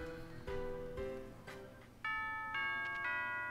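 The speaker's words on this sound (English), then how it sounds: "Oh, there's a school bell!" A school bell chimes in Pokemon Ultra Sun & Moon, a series of clear electronic bell tones ringing out one after another, moderately loud with a soft game backdrop and no talking.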